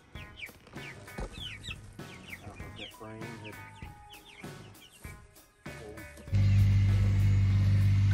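Chickens cluck and chatter close by while a person talks briefly, then a loud steady mechanical hum drowns out the scene.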